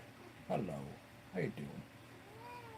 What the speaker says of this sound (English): You can see my cat.